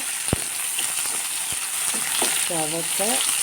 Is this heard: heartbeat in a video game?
no